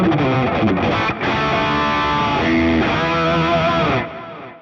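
A distorted electric guitar through a NUX MG-50 Li amp modeler with a Friedman cabinet simulation plays chords and riffs with a boxy, mid-heavy tone, sustaining loudly before cutting off near the end.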